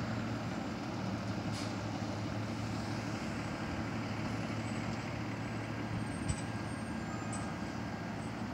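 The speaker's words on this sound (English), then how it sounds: "And there goes the ambulance." An ambulance pulls away from a house fire scene without its siren, leaving a steady, moderately distant engine and road rumble that holds evenly throughout, with no talk.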